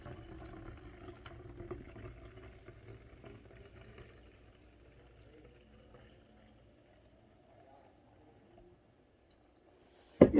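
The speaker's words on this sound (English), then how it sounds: "So we're going to add the water and you're just going to fill it up with water." Water poured into a plastic bottle for a homemade sensory bottle, giving a soft, steady trickle with faint bubbling and clicks that fades over about ten seconds, ending in a brief louder knock.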